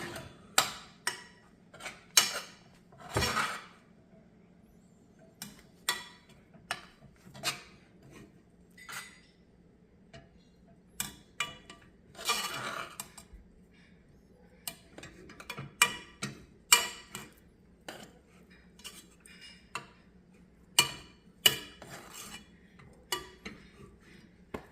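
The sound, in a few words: stirring churro dough after adding all-purpose flour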